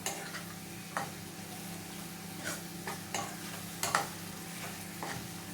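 Mushroom masala gets stirred in a frying pan with a spoon, scraping strokes and soft taps repeating irregularly over a low steady sizzle, no talking.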